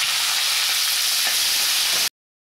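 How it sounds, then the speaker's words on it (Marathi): Onion, red chili, cloves and cinnamon sizzle steadily in hot oil in a pan for palak khichdi, a close, continuous bright frying hiss with no talk, cutting off abruptly near the end. "आणि आपली लाल मिरची। कांदा थोडा परतते ते।"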